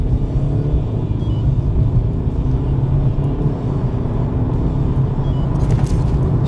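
BMW 3 Series diesel accelerating hard from a standing launch, a steady loud low engine rumble with road noise that holds throughout without any talk.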